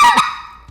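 A single goose greeting note blown on a call, imitating a goose, loud and close: a sharp honking onset that trails off into a fading tail, heard alone with no talk.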